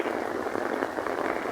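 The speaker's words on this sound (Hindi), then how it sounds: "और दूर दूर तक धुंध और शदीद किस्म की बारिश हो रही है।" Heavy monsoon rain pours over flooded fields, a steady, dense hiss that stays even and loud throughout the short stretch, with no voices.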